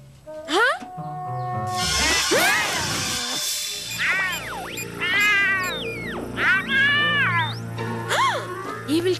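Cartoon cats from Kid vs. Kat meow repeatedly in rising and falling yowls, mixed with a crash, a whoosh and a voice speaking over the noise.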